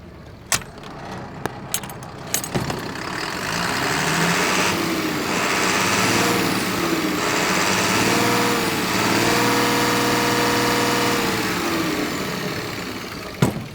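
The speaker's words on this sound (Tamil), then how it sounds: "இப்போ இந்த வண்டியோட இன்ஜின் சவுண்ட் எப்படி இருக்குது அப்படின்றத நம்ம கேட்கலாம்." A truck's 6.7 litre Cummins diesel engine runs close by, rising and falling through several revs before settling back, with a few sharp clicks at the start and end and no talking.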